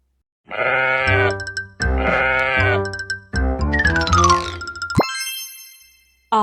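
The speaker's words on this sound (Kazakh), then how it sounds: "Бұл қой." A sheep bleats in three loud, wavering calls close up, followed by a bright cartoonish boing-like ring at the end in a children's animal learning game.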